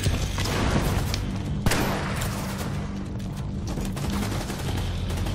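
Loud, continuous gunfire from a sniper turret and heavy weapons in the shooter game The Division 2, with overlapping shots and booms forming a dense, unbroken barrage close up.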